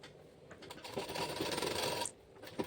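Short burst of a sewing machine running a second quarter-inch row of stitching along a maxi dress neckline, a brief steady whir of about a second, close and quiet, then stopping.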